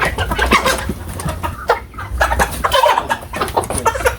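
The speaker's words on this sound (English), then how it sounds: "The cock." A rooster on a poultry farm in Uganda clucks repeatedly up close, with rough overlapping calls that carry over farmyard background noise.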